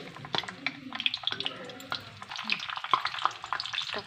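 Five or six hibiscus leaves and fresh curry leaves crackle in hot oil for a homemade herbal hair oil, with a steady close sizzle broken by sharp pops and spits, and no voices.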